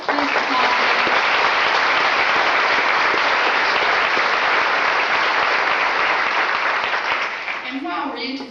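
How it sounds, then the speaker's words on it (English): An audience at a high school senior honors night applauds honored students with a full, steady roar of clapping that tapers near the end as a voice begins speaking. "Would you all please applaud them?"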